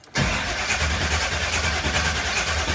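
A 1975 Chevrolet Corvette engine fires up with the key, catching within a split second and settling into a steady, loud, close idle rumble with no talk.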